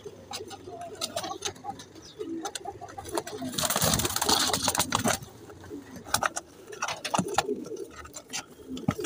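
Teddy and Ferozpuri pigeons cooing in a loft, soft repeated coos among a general background clatter and wing or movement noise, with a busier burst of sound around the middle.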